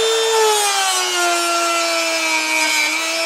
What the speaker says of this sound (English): I want to clean this cam a little bit more. It'll just take a second with the with the rotary tool.